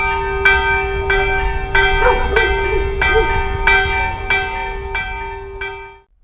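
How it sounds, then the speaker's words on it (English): A church bell in El Cocuy, Boyacá, Colombia rings loudly in slow, regular strokes, about nine, each ringing out before the next, with a dog barking faintly between strikes. "as you can hear, they have a church bell"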